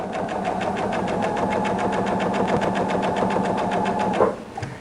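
A sewing machine back stitches the seams of a rag quilt, running with a steady, fast mechanical chatter that holds throughout and breaks off with a brief clunk near the end.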